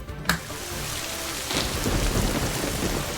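A thunderstorm with a sharp thunder crack near the start, then steady heavy rain pouring onto surfaces outside an opened window, loud and continuous without any voices.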